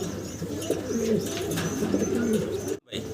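Pigeons coo in low, repeated murmuring phrases at a pigeon farm, a steady overlapping chorus with faint chirps above and a brief dropout near the end.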